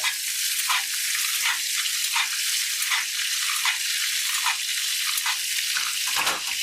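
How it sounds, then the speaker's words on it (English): T-bone steak in a hot pan being basted with oil and butter, loud continuous sizzling with rhythmic bursts as the fat is spooned over the meat, close and alone. "And you're going to start to baste it."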